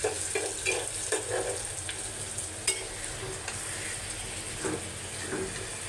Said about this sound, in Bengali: আর এখানে হচ্ছে ডাল চচ্চড়িটা বাগা দিচ্ছি।